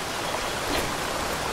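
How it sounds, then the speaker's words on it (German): Shower water runs in the video game Die Young, a steady hissing spray of broadband noise like rain or a stream, even and close with no talk. "Na gut, gehen wir mal duschen."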